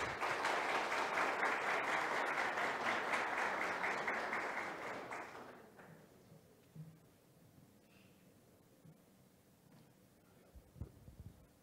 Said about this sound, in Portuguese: É com grande honra que convidamos, com uma salva de palmas, Afonso Oliveira para o palco.